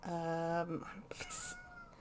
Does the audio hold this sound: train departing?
no